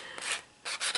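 Dry, raspy rubbing in two bursts with a short pause between, sandpaper worked back and forth along a tin edge, close up.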